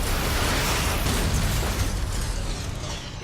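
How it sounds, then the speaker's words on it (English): Heavy explosive blasts from a mortar turret in the game Iron Brigade, a loud, dense rumbling barrage that fills the whole stretch and eases off slightly at the end, with no talking. "This heavy emplacement drops large explosives on groups of monovisions."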